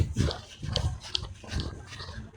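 A nearby dog gives short, rough, snuffling vocal bursts in an uneven rhythm, moderately loud against a faint background murmur.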